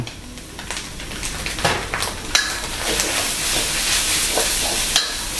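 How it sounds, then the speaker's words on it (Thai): Instant noodles stir-fried with dark soy sauce in a hot pan, a steady close sizzle with spatula scrapes and stirring clatters running throughout. "ผัดให้ซีอิ๊วดำเคลือบเส้นให้สวยงาม"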